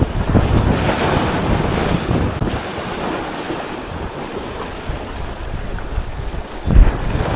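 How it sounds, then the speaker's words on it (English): Wind by the sea while fishing for bonefish off Mexico's Cortez coast, a constant loud roaring gust buffeting the microphone over rushing surf, with no voices. "the wind definitely picked up"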